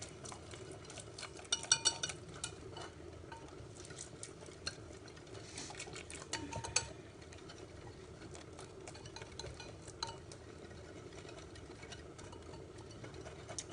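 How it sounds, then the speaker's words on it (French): Spoon or whisk stirring pancake batter in a bowl, a steady, faint scraping and clicking that continues for the whole stretch, with a few louder taps near the start. "je mélange le tout très bien et au fur et à mesure, je vais venir ajouter mon lait"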